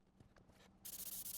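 Spray adhesive hissing from an aerosol can onto the back of vinyl carpet in a 1967 Triumph Spitfire Mk3, a close, steady hiss with short pulsing bursts that starts partway through after faint handling noises.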